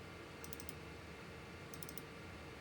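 Faint computer mouse clicks at an old Compaq Contura laptop, two quick clusters of about four rapid clicks each over a low background hiss, no talking.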